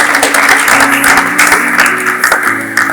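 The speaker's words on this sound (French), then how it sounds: "est-ce qu'on peut applaudir pour notre mission?" Church congregation applauding in a hall, loud close clapping with rapid uneven claps that continue steadily throughout, with faint voices mixed in.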